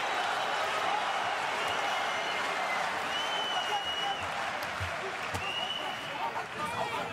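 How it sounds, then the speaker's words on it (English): A boxing arena crowd at the Marco Huck vs Firat Arslan rematch roars and applauds steadily throughout, a dense wash of cheering with a commentator talking over it. "The crowd are right into this."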